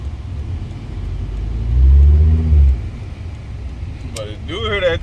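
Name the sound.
Volvo engine running with turbo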